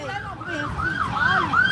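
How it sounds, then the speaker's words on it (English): Ambulance sirens wail in rising and falling sweeps that grow louder and steadier as the vehicles approach an emergency scene where someone is trapped, with traffic rumble underneath. "we've got ambulances coming here"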